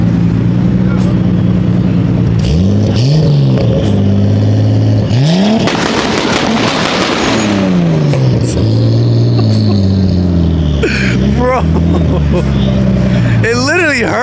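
A Nissan Skyline engine revs loudly and close at hand for the whole stretch, rising and falling repeatedly with a harsh roar in the middle, as people talk over it on an LA street.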